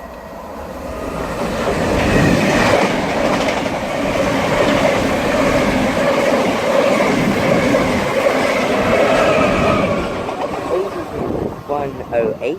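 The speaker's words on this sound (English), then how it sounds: "the 1215 Greater Anglia service from London Liverpool Street to Norwich, passing through 6 minutes late" A Greater Anglia Class 90 locomotive, 90-005, hauls a London Liverpool Street to Norwich express through Needham Market station on the Great Eastern Main Line, a loud sustained rumble with clattering wheels building and fading as it passes.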